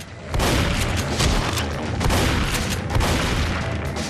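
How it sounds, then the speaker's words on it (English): A grenade launcher fires in Left 4 Dead 2 during the Swamp Fever campaign, dense loud booms and blasts layered with gunfire over about four seconds, close and continuous. "Hell yeah, grenade launcher!"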